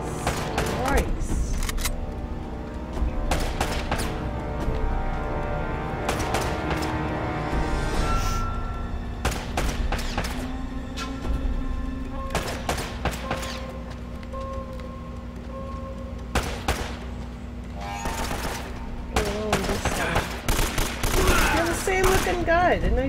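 Rapid, repeated gunfire from Uncharted: Drake's Fortune, dense fusillade-like bursts and single shots over a constant game hum, with a voice likely talking over parts of it.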